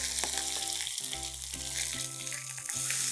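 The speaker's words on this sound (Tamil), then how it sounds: "இதெல்லாம் போட்ட பிறகு நம்ம வதக்க ஆரம்பிக்கிறோம்" Onion sautéing with mustard seeds, cumin, dried red chillies, whole garlic and curry leaves in a pan for okra pachadi: steady close sizzle with stirring and a few sharp clinks, alone.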